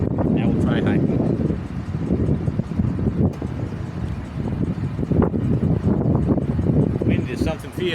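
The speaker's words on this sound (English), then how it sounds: "Wind is something fierce." Strong outdoor wind buffets the microphone in a steady, heavy low roar with rustling gusts throughout, while someone tests a Uniden Pro 401 handheld CB radio in the open.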